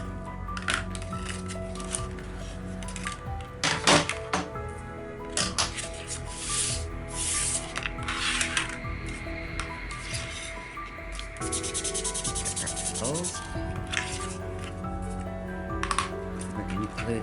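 A tool scores a half-inch fold line for a small tab on card stock, making close, scratchy drags and light taps with some shuffling of paper in between. The sounds come in short irregular bursts and nobody speaks.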